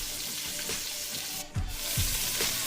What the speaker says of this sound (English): And I'm sauteing in about 2 tablespoons of butter.